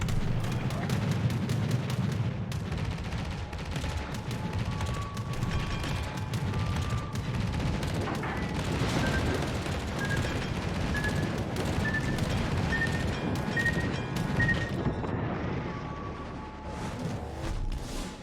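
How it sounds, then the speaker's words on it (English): Naval gunfire from the Minotaur, a warship in a naval battle game on the Smolensk map, as a dense, continuous rumble of shell blasts and booms with faint chiming tones over the top. "Although maybe the Minotaur shoots every 3 seconds."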